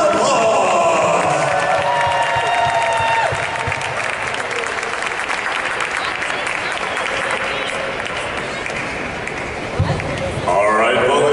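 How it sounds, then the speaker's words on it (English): A college sports crowd at a WKU versus Cincinnati game applauds and cheers for semester MVPs, a loud, sustained roar of clapping and shouts that dips briefly before surging again, with voices mixed in. "please give this semester's MVPs a big grand round of applause"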